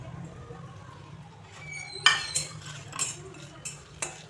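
Cloves and black peppercorns stirred with a metal spoon in an iron wok, giving quiet scraping at first and then a run of sharp, bright clinks and scrapes in the second half over a low steady hum.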